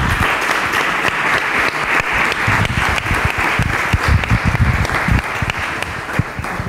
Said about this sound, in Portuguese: eu queria uma salva de palmas para o Zé